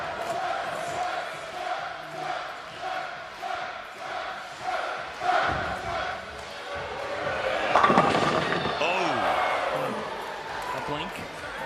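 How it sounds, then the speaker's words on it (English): An arena crowd cheers and roars at a professional bowling league final, a steady, dense wash of voices that swells louder near the end, with voices mixed in. "Now look at Quintero get the crowd going."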